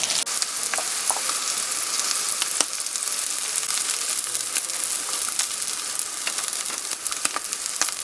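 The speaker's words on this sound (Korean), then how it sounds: "그 앞뒤로 놀놀하게 붙여주시면 됩니다." Oyster pancakes dipped in egg, with no flour, fry in a pan over low to medium heat. A steady, dense sizzle crackles throughout, with scattered sharper pops and no voices.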